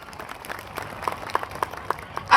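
Audience applause at a Rabari community gathering in Porbandar, a short burst of scattered hand claps, fairly sparse and moderately distant over a low room murmur, swelling louder at the very end.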